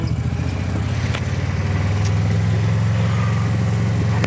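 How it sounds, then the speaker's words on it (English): A four-wheeler ATV engine running while being ridden: a steady close rumbling drone that rises slightly in pitch partway through, with no talking. "I'm out here riding on my four-wheeler"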